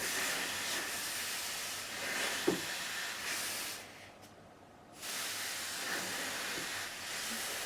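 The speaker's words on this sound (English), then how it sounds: "we're just going to coat some steam into this area" A clothes iron hisses steam onto a guitar neck in a steady, fairly loud breathy rush that cuts out briefly for about a second, then resumes.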